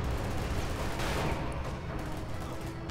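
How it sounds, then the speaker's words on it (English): A grenade goes off amid battlefield gunfire in Company of Heroes 2, a sharp burst rising out of a dense, continuous rumble of distant shots and blasts. "Throwing this grenade of legends."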